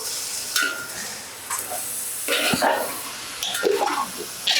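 Chopped cabbage fried and stirred in a pan, with a steady sizzle broken by several scraping stirs and clattering bursts from the utensil, heard close and clear.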